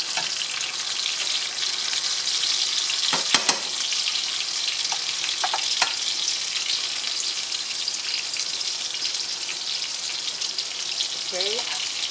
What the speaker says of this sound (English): and let that saute with the onion